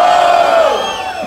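A crowd at a Brazilian street rap battle semifinal roars and cheers loudly, a dense burst of shouting voices that fades slightly over about a second.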